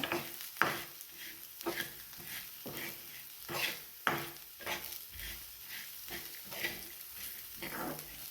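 Green chilies and moth beans dry-roasting in a pan with cumin and salt, giving a soft steady sizzle broken by regular stirring scrapes, close and alone with no talk.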